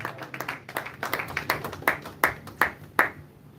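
A church congregation clapping together in praise of Jesus, a loose cluster of handclaps settling into a steady beat of sharper, louder claps near the end, fairly close.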